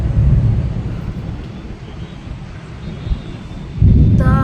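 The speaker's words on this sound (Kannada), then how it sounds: "ಸಿಡ್ಲು ಹೊಡಿತಾ ಇದೆ." Thunder rumbles during the first rain of the season, a low, drawn-out roll mixed with wind noise that eases midway and then swells again near the end, with no voices.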